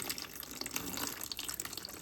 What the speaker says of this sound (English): now water's coming out of the top hose